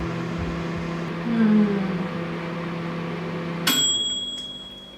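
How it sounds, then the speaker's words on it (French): A microwave oven hums steadily while heating chocolate and butter, then its hum cuts off and a couple of high, clear electronic beeps sound to signal it is done. "Et je viens le mettre au micro-ondes."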